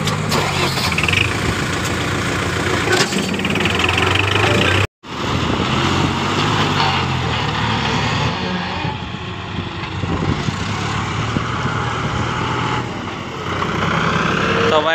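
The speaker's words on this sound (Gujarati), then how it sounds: "આગળ જેસીબીથી ખોદકામ થતું જાય અને પાછળ ભાઈ લોડરથી ડાયરેક્ટ ધૂળ ચરાતી જાય છે" A JCB excavator digs while a loader's engine runs nearby, making a continuous loud diesel rumble with a brief break partway through and faint voices under the machinery.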